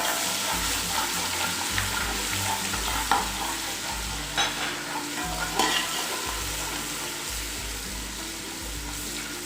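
Whole spices (black cardamom, cinnamon, cloves, black pepper) and garlic-ginger paste fry in hot oil for chicken degi pulao, a steady close sizzle broken by repeated scraping stirs and a few clinks, with no talking.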